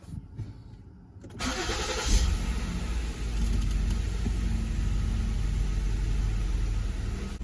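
A Ford Explorer 3.5L engine cranking and catching after a spark plug change, then settling into a loud, close, steady idle with a slightly uneven rumble and no talk.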